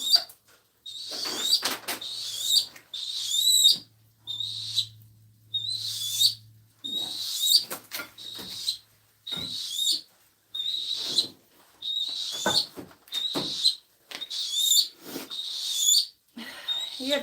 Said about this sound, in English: this is my red-tailed hawk Charlie